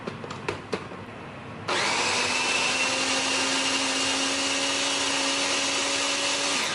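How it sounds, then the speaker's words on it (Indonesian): A Revel electric chopper grinds tomatoes and chilies. A few quick clicks come first, then the motor starts abruptly and runs at a steady, loud whir until the end. "Nah, kalau untuk di sini Flavis kasih pakai chopper dari Revel"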